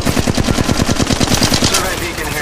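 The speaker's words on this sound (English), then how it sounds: "I am taking fire, friends." Loud, close rapid automatic gunfire from Apex Legends Mobile fires as an even, fast burst of about fifteen shots, then trails off into echoing reverb.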